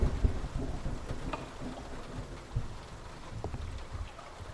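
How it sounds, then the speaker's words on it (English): Steady rain falls in the noir detective game Face Noir, a dense hiss with scattered drips and low rumbles, heard alone. "It's been raining for days."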